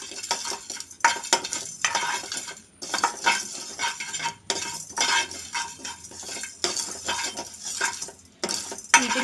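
Spices and fenugreek seeds being stirred and dry-roasted in a pan for homemade sambar powder, with repeated scraping and rattling of a spoon against metal in busy bursts and brief pauses, close and fairly loud, no voices.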